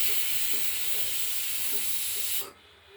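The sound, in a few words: pressure cooker whistle releasing steam while cooking moong dal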